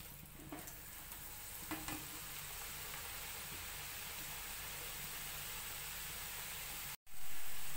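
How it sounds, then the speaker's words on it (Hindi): Cut potatoes for French fries going back into hot oil for a second frying, giving a steady, even sizzle and hiss close by with a few faint stirring clinks and no talking. "अब इसको दोबारा फ्राई करेंगे हम। ये इसमें डाल देंगे दोबारा फ्राई करने के लिए।"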